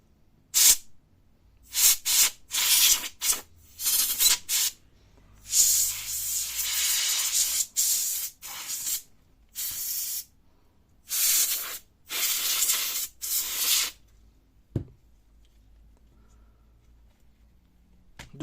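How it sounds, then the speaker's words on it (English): Compressed air blasts dust out of a laptop cooling fan in about a dozen sharp, close hissing bursts of varying length, separated by short silences and a longer pause near the end. "I use compressed air to blow everything"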